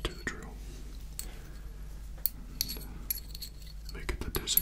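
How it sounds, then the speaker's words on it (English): Metal drill bits handled in a quiet ASMR setting produce scattered light clinks and jangles, close and soft, with whispering running underneath. "All these you connect to the drill."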